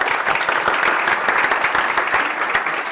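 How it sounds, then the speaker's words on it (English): Steady applause from a seminar audience on health data sharing, a dense, even patter of many hands clapping close by with no talk over it. "Should we give them all a clap and then run away?"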